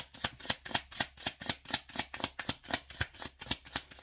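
Tarot-style cards being handled and drawn, a steady run of crisp flicks and snaps about four per second, close and fairly quiet with no voice.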